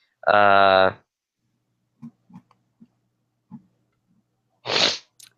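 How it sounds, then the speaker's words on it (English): A single loud, sharp sneeze bursts out, followed by a few quiet sniffs and small sounds, then another breathy burst near the end. "That was a great sneeze."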